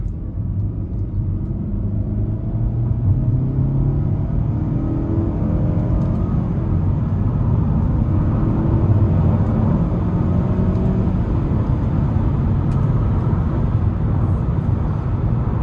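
A 2019 Nissan Altima SR with its 2.5-liter four-cylinder drives under paddle-shifted gears, giving a steady, loud low engine rumble and road noise from inside the cabin, with no voices.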